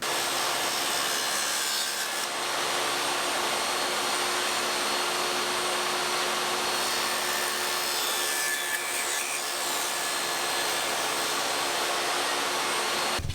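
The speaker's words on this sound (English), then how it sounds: "I've got the 3/4 inch dado stack in place" Table saw fitted with a 3/4 inch dado stack cuts tenons in wood, giving a loud continuous whine and rasping hiss that holds steady throughout with no speech.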